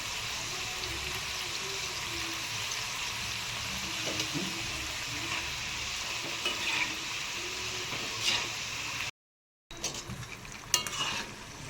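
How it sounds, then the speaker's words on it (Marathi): Homemade tomato chips fry in oil over a low gas flame, giving a steady, close sizzle with occasional stirring scrapes and bubbling pops, broken by a brief gap of silence near the end. "त्यामुळे छोट्या गॅसवरतीच तळून घ्या"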